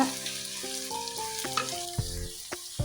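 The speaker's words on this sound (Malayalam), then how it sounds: "നല്ല വെളിച്ചെണ്ണയിൽ നല്ല ചെറിയ ഉള്ളി ഒരു പിടി എടുത്ത് അരിഞ്ഞ് നല്ലപോലെ വഴറ്റിയെടുക്കുക" Chopped small shallots sauté in coconut oil, giving a steady, close sizzle with faint stirring scrapes under a layer of steady tonal sound, and no voices.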